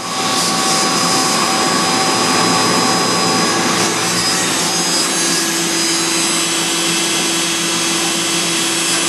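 The spindle of a Mazak Integrex 200 IIIST machine runs at 10,000 RPM, a loud, steady high-pitched whine with a constant tonal hum that continues unbroken throughout.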